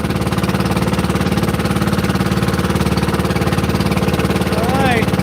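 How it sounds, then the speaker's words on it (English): A boat runs underway on two engines, a steady close throb with a rapid pulsing rhythm throughout; a faint chirp rises briefly near the end. "Okay, we're underway, 2 engines."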